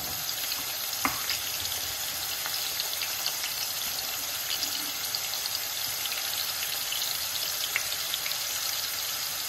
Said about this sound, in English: fry it off like that